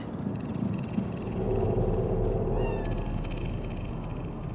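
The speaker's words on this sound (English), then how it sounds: "Fine-looking feline." A cat in the Cyberpunk 2077 video game lets out a single short meow, clear and fairly close, over a low rumbling city ambience.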